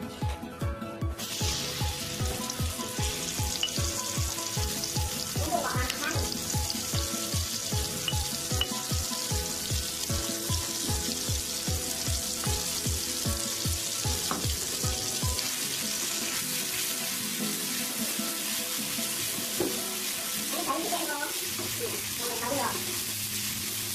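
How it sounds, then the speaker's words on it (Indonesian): Ground spice paste frying in hot oil in a pan, a steady close sizzle running throughout with rhythmic stirring or scraping strokes during the first half and a few brief clinks later. "Tunggu hingga panas, lalu bumbu digoreng."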